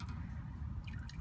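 Fuel drains from the drain valve of a Nissan Titan XD fuel filter housing during a fuel filter change, a short close-up trickle with wet dripping and squishy liquid sounds.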